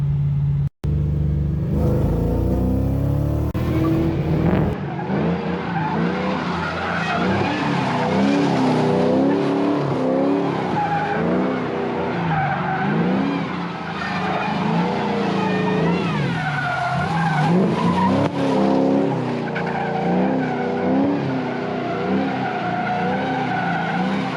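A Corvette-engined Nissan 240SX drift car with its mass airflow sensor unplugged, roaring loud and close with rising and falling revs, tire squeal and skidding, after a sharp bang at the start.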